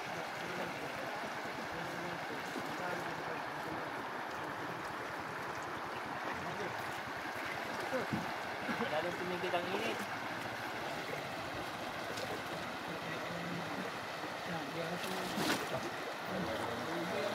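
Sea water churns near a fishing boat as tuna feed at the surface, a steady, dense splashing wash that stays fairly faint and continuous throughout.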